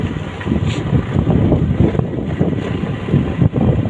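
Wind blows steadily across a rural farming area, a loud continuous low rush with microphone buffeting and no talk.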